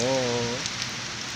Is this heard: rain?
yes